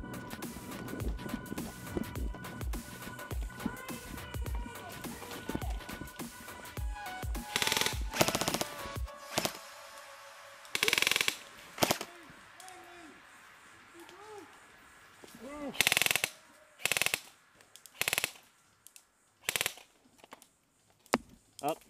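Gunfire in an urban combat team deathmatch: dense automatic bursts early on, then separate loud shots and short volleys spaced through the rest, with someone talking between them.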